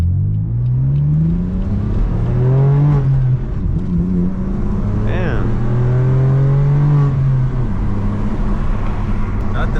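A manual BMW M4 F82 with loud exhaust pulls away from a stop, its engine note climbing through revs, dipping at a shift and rising again, heard from inside the car.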